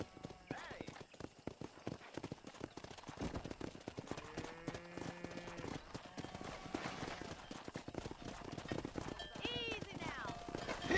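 In the game Red Dead Redemption, horses trot with quick, busy clip-clop hoofbeats and an occasional whinny, heard together with people talking, at a moderate level.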